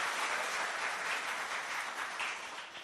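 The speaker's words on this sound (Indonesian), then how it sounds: "Tepuk tangan buat Anda dulu ya" A seminar audience at a business presentation claps in a broad, even wash of applause that fades slightly toward the end of its three seconds.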